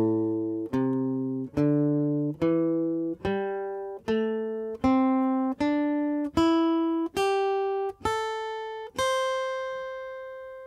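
Guitar plays an ascending minor pentatonic scale alone, about twelve evenly spaced plucked notes climbing one by one, clear and close, the last note left to ring out.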